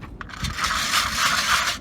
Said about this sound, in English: An old card shuffler right here.